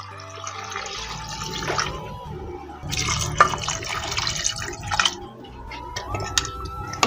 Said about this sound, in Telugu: 2 గ్లాసుల వాటర్ యాడ్ చేసుకోవాలండి.